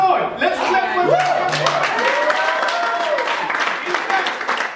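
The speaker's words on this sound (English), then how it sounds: "Let's clap for him." An audience claps for a person called forward at a leadership development session, a fairly loud mass of clapping mixed with cheering and raised voices that swell up after a brief pause.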